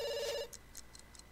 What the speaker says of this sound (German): dein Telefon bimmelt